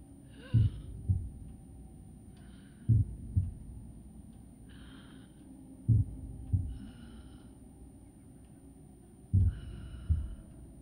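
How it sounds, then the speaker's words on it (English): Slow, heavy heartbeat thuds in lub-dub pairs from the video game Metal Gear Solid V: The Phantom Pain, spaced a few seconds apart, loud and close with faint airy breaths between. "I think I hear your pulse."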